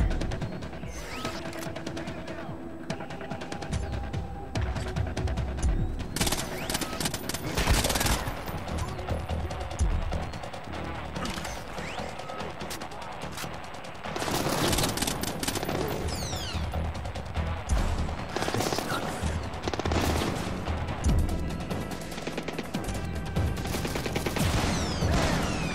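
Sustained gunfire rattles through a Splinter Cell Blacklist firefight, with rapid automatic bursts and scattered single shots that are loud and close, continuing almost without pause amid clanking mechanical impacts.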